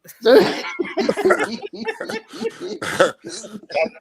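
Someone coughs and splutters in several rough bursts, close by, mixed with voiced, laugh-like sounds.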